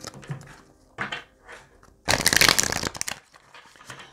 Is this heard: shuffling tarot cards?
yes